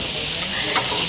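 Jackfruit seeds and pumpkin fry together in a pan, a dense continuous sizzle with faint stirring scrapes, close and steady, no speech over it.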